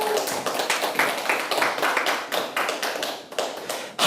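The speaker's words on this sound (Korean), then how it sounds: "박수." Audience applause at a motivational lecture, a dense burst of many hands clapping that rises and falls in uneven waves, fairly close and lively, with no speech over it.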